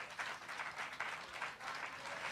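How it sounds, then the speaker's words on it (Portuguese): A church congregation applauds at a Portuguese-language sermon, a steady wash of many hands clapping at moderate volume with no speech over it. "Você pode aplaudir a Jesus por isso?"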